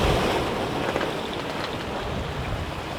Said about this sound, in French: le vent est froid